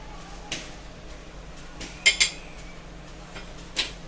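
Gentle stirring of brain masala fry in a pan, with a few light clinks and scrapes of a spoon against the metal over a quiet background.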